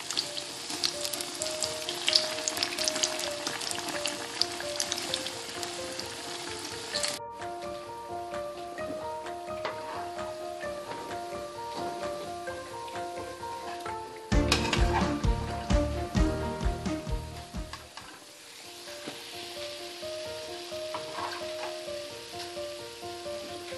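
Bread pakoras deep fry in a pan of hot oil, giving a continuous, even bubbling sizzle that runs throughout under steady background music.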